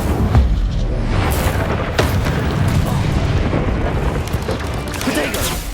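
Incendio fire spell cast in the video game Hogwarts Legacy, a loud whooshing fiery burst with deep booming rumble that carries on and crackles over several seconds.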